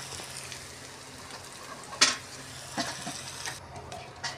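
Water poured into a pan of fried spice paste sets off a steady sizzle, with a sharp metallic clink partway through and a few softer stirring knocks, heard close with no talk.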